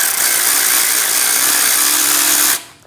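Power tool, likely a drill or driver, tightening bolts on the plastic guard of a 2003-2025 Chevrolet Express 2500: a loud, steady whir that rises slightly in pitch, then cuts off sharply near the end.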